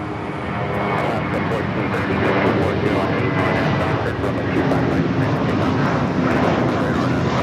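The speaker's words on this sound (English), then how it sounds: "This is Spirit Airlines 1866 taking off to Milwaukee on the A321." Spirit Airlines Airbus A321 taking off at LAX, a loud continuous jet engine roar that builds slightly and holds steady, with someone talking over it.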